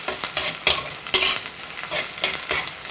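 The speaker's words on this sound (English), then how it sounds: "So keep it in low flame and dry roast it." Fennel seeds and peppercorns dry roasting in a pan over a low flame, a close, steady dry rustle and crackle with repeated scraping strokes as the seeds are stirred, with no talk.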